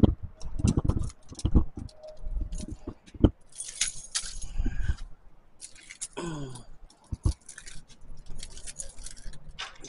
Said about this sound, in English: Dropping my keys and stuff on the ground.